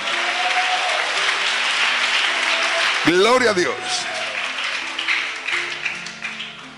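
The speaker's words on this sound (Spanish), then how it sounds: "Dale un aplauso al Señor con todo tu corazón." A church congregation claps for the Lord during a Spanish-language service, a steady wash of applause with a voice calling out loudly over it partway through.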